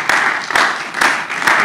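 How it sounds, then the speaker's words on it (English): Hands clap in a few loud, spaced bursts as a church audience at a mental health workshop applauds its guests, close and uneven with short pauses between claps. "Let's clap for our guests."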